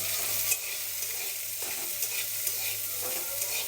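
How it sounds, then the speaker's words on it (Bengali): Chopped onions with a little salt frying in a pan, a steady bright sizzle with occasional stirring scrapes, close and continuous with no talking. "পেঁয়াজটা দিয়ে দিচ্ছি, এখানে একটু হালকা করে লবণ দিয়ে দিচ্ছি। এগুলো একটু ভেজে নেব।"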